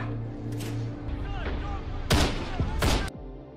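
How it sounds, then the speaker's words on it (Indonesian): Volleys of gunfire in a battle scene from an action film, with sharp, loud bursts of shots and rattling fusillades over a rumbling, tense background. "Rentetan tembakan dan hujan peluru membuat situasi makin mencekam."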